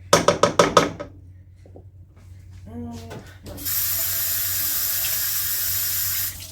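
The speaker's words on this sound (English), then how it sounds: "Dirtying another rubber scraper. I just rinsed it off." A kitchen tap runs full and rushes steadily onto a rubber scraper being rinsed, close and loud, after a burst of sharp knocks and a brief voice.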